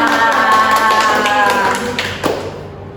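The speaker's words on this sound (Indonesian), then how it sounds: "Mungkin kita beri tepuk tangan dulu kepada dua narasumber kita." Small studio audience at a podcast on multicultural education clapping for two guests, a brief patter of hands near the microphone mixed with voices, fading out after a couple of seconds.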